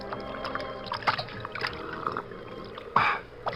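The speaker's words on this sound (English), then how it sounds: "throws himself at full length and greedily drinks from the river" A large man lies full length at the Salinas River and drinks greedily, making close wet splashing, slurping and trickling sounds in uneven bursts, with a louder splash near the end.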